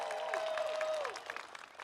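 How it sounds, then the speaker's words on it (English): Brief applause from a commencement crowd celebrating mothers, fairly faint and distant, with a whistle-like tone sliding through the clapping. "Can we get a round of applause for all the moms?"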